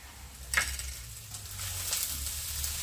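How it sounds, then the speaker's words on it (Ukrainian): Eggplant pieces frying in oil in a pan, a soft continuous sizzle with a couple of brief scraping stirs, close and moderately quiet. "Почали смажитися гарненько баклажанчики з усіх сторін"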